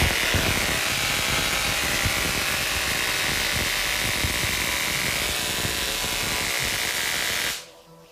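A 100-watt electrostatic high-voltage machine putting out over 100,000 volts runs with a steady, loud, close buzzing hiss, then cuts off abruptly just before the end.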